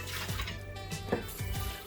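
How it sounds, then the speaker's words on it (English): Water runs and splashes as seaweed for a Japanese glass noodle salad is drained in a kitchen sink, a steady close pour with a few louder splashes and no talking. "now I'm going to drain the seaweed"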